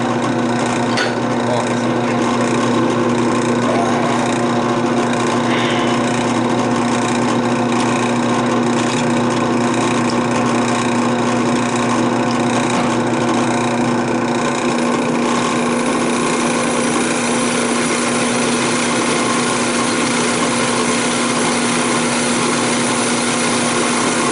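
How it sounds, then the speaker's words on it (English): A drill press set around 460 to 470 rpm runs continuously with a loud, steady motor hum and whine that shifts slightly in tone partway through, with no speech over it. "I believe it's the 460, 470 setting on the drill press. Let's fire up and let's see what happens."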